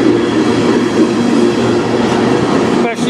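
CN manifest freight train led by locomotives 8961 and 2514 rolling past in Sarnia, a loud, steady, close rumble of wheels and railcars with a faint squeal near the end.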